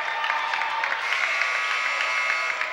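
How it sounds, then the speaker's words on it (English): Basketball crowd at a boys' high school game cheering on the home team, a steady roar of voices and clapping that holds throughout at an even level. "fans are cheering on the home squad here"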